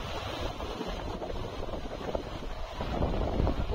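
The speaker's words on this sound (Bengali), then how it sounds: "বাতাস, প্রচন্ড বাতাস," Strong wind gusts buffet the microphone beside a mountain lake fed by melting snow, a dense, steady roar that swells louder toward the end, with no voices.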